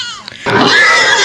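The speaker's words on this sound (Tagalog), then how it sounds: "May baboy na tumatakbo." A pig grunting as it runs on a rural farm, a short burst of rough, loud grunting that begins abruptly after a brief quieter moment with a faint higher call.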